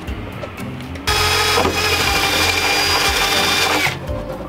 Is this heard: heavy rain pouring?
no